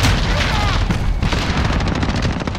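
Grenade blast in Call of Duty: Modern Warfare multiplayer, a loud, heavy explosion rumble mixed with continuous nearby gunfire, filling the whole moment.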